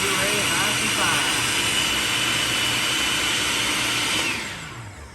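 A blender purees homemade salsa with onions and cilantro, giving a loud, steady whirring roar for several seconds before it winds down and cuts off near the end.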